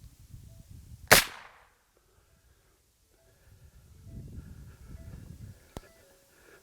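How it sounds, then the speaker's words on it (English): A single sharp gunshot cracks out loud and close while a bobcat is being shot, followed by quiet, a low rustle of movement and a faint click near the end. "I don't want to shoot it in the head, but I will."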